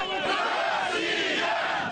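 Large crowd of protesters at a rally in Kharkiv shouting slogans together, a loud, dense roar of many voices close by, sustained through the whole moment.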